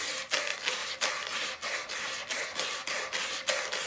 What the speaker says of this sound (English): I got impatient and I switched to some coarser sandpaper 120